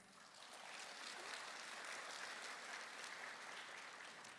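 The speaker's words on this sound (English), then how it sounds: "Please give him another round of applause." Steady applause from an audience at the opening ceremony of the 24th ICLA Congress, a dense even wash of clapping that holds for several seconds without talk.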